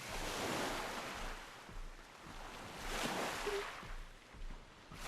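Character swimming through water in a park ranger simulator game, a continuous washing, surging splash with rhythmic swells, fairly soft and steady without talk.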